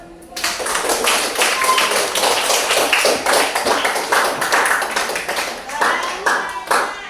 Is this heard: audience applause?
yes